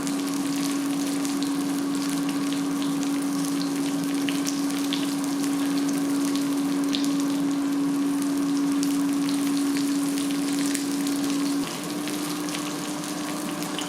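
Provoleta cheese chunks frying in a pan over medium heat, a steady, even sizzle with a constant hiss running alone for the whole stretch and no talk.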